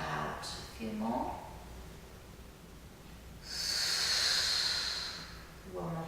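Slow, deep breaths in and out during a Pilates exercise, heard close and soft with an audible hissing exhale midway through, set among quiet pauses.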